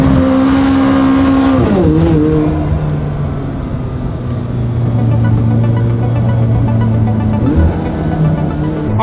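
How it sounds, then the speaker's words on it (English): A Ferrari 458 engine revs loudly and close, climbing and falling in pitch with strong harmonic tones, settling into a steady drone before a second rise near the end. "Wow, that 458 sounded awesome."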